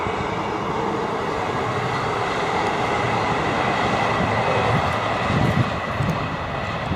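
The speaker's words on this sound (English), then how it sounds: "No, I've got another train." A train rumbles steadily past, a continuous loud roar of wheels and rail noise with clattering bursts near the end.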